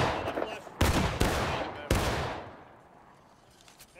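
Gunfire volley in the video game War of Rights: three sharp, loud musket bursts in quick succession, the last ringing out into a long fading echo, with faint ambient noise after.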